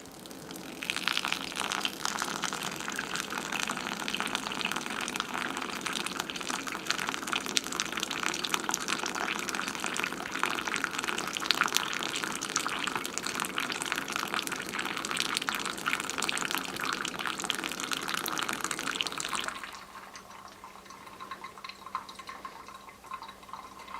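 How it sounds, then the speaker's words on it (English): Water poured steadily onto coffee grounds on a scale, a continuous close splashing trickle lasting about twenty seconds before stopping, leaving a faint hum. "we're going to add 250 grams of water"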